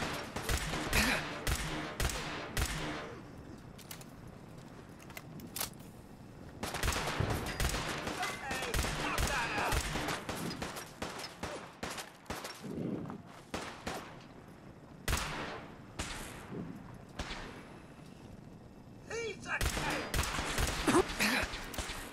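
Repeated bursts of virtual gunfire from shooting through a fence at super mutants in Fallout 4 VR, loud clustered volleys with short pauses between them, a voice speaking briefly in the gaps.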